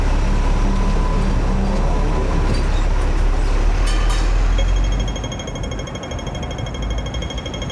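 A Hong Kong Ding Ding double-decker tram rumbles along nearby, a loud steady mechanical roar with rattling that eases and quietens after about five seconds.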